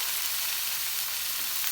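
Prawns frying in a very hot pan, a steady dense sizzle with spitting crackle throughout, close and fairly loud with no voices.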